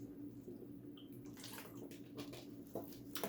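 Water pours and splashes steadily into a basin, growing fuller and more splashy toward the end, heard close with no voices.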